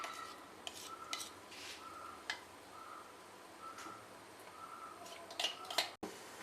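Soft, slow stirring of rice flour paste into a thick jackfruit halwa in a pan: faint scraping strokes roughly every second or so, with a few light metallic clicks, heard up close in a quiet kitchen.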